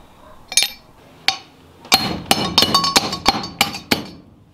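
Gold-bearing hard rock ore being crushed in a small steel dolly pot: sharp metallic strikes and clinks, a few spaced hits and then a quick run of about eight loud, close blows, with no talk.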